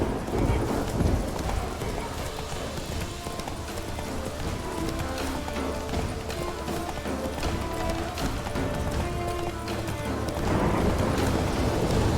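Roach the horse galloping in The Witcher 3, a quick, steady hoofbeat clatter that carries on throughout, mixed with game ambience and voices.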